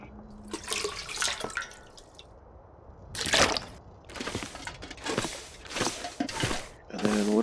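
Water being collected from a toilet in The Long Dark, heard as several short splashy, trickling bursts with quiet gaps between them, close and moderately loud.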